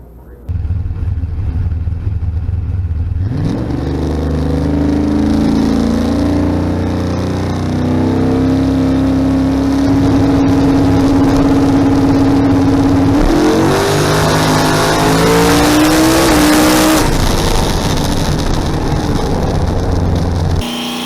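Loud drag race car launching off the line and accelerating hard down the strip, its engine note rising steadily through the pass, close and dominant, with faint voices in the background.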